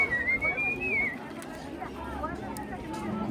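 A single high, sliding two-tone signal whistle rings out, shared between two friends to locate each other in a Mexican village during a pilgrimage, fading into a murmur of distant crowd noise.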